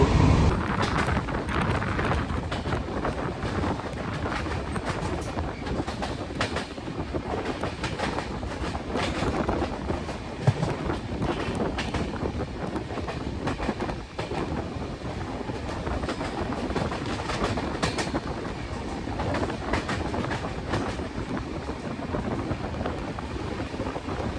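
Dibrugarh Rajdhani Express, heard from a first-class coach, runs alongside the Namo Bharat rapid rail with a constant loud rumble, rushing wind and rhythmic clickety-clack of wheels on rail joints throughout.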